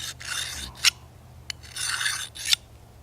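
A knife blade, an old Kershaw, is drawn through a small handheld carbide sharpener in repeated rasping strokes, each a gritty scrape close by, with sharp clicks at their ends and no voices.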